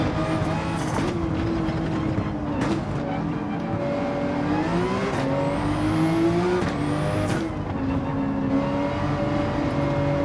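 Race car engines in Gran Turismo 7 drone steadily and loudly throughout, pitch rising and falling as cars accelerate and shift gears, several engines overlapping close by during overtakes.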